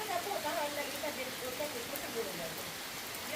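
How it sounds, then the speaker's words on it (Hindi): Heavy rain pours steadily in a mountain setting, a dense, constant hiss of falling water close by with no breaks. "ये देखो फिर से एक बार बहुत तेज बारिश लग गई है"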